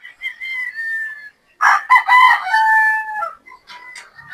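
Gamecock roosters, battle stags among a farm flock of about 350 birds, crow loudly and close in long drawn calls, with clucking between the crows and no talk.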